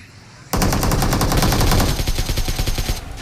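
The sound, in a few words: gunfire in PUBG Mobile video game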